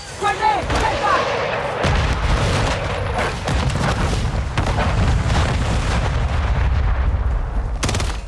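Grenade explosions and gunfire fill a Call of Duty MW3 multiplayer match, with dense, loud booms and rattling shots running throughout and brief game voice callouts mixed in.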